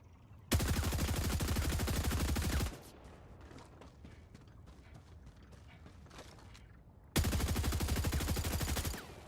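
Rapid automatic gunfire from a high rate-of-fire weapon in Helldivers 2 comes in two loud, dense sustained bursts, each about two seconds long, separated by a quieter stretch of faint mechanical clicks and rattles.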